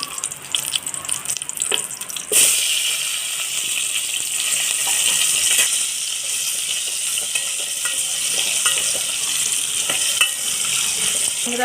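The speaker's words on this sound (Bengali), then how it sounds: "আর একটু সর্ষের তেল দিয়ে দেব যে আমি আলু দিয়ে দিচ্ছি" Potatoes drop into hot mustard oil: a few clatters, then a sudden loud hiss settles into a steady, close frying sizzle that continues throughout.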